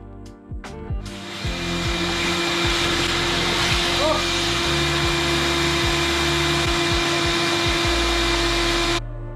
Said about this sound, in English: I just sucked up the bolts I just bought for the hat.